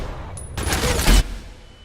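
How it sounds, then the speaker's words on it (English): A burst of gunfire in the shooter game ADACA hits a thrown grenade in mid-air, a dense, loud volley lasting under a second and ending on a heavy low thump. "I think they just shot my grenade as I threw it."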